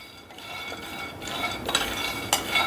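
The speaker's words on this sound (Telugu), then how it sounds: "ఇప్పుడు స్టవ్ మీద పాన్ పెట్టుకొని ఒక 50 గ్రాముల పల్లీలు, ఇప్పుడు స్టవ్ని సిమ్లో పెట్టుకొని ఈ పల్లీల్ని ఇలా కలుపుకుంటూ దోరగా" About 50 grams of peanuts dry-roast in a pan on a low flame, stirred with a spoon that scrapes and rattles them in short, close, uneven strokes, louder toward the end, with no voices.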